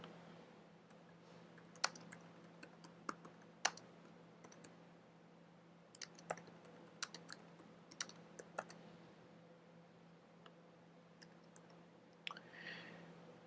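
Computer keyboard typing an address, heard as faint, sparse keystrokes and clicks scattered irregularly over a low steady hum, with no one talking.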